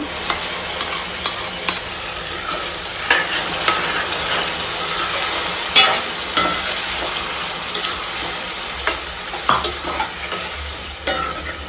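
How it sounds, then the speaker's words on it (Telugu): Tomato puree goes into a pan of softened onions cooking for mutton curry, with soft sizzling under repeated spoon scrapes and taps against the pan, close by and moderately loud, without talk. "ఇప్పుడు టమాటా ప్యూరీ వేసుకుందాం"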